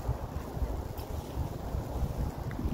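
Wind on a snowy, cold day in Ottawa, a steady low rumbling buffeting against the microphone that persists throughout with no voices.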